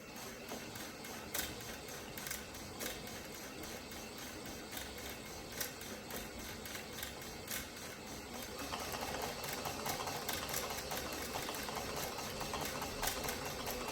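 A Caydo yarn winder is cranked at maximum speed while winding worsted weight yarn, giving a steady, close mechanical whir with faint rhythmic ticking that grows slightly louder and fuller partway through.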